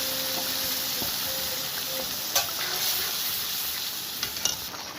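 Spices and lentils fry in a pan for a Malabar spinach dish, giving a steady, close sizzling hiss broken by a few sharp stirring clicks and scrapes.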